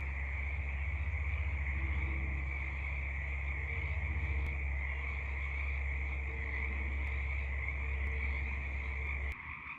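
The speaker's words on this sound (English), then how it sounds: "Frogs are going crazy." A loud, continuous chorus of spring frogs croaking in dense overlapping pulses near a truck camping site, steady throughout and cutting off abruptly near the end.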